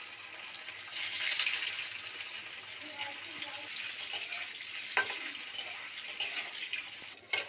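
Paneer frying in mustard oil: a close, bright sizzle that rises sharply after a second, with occasional stirring clatter.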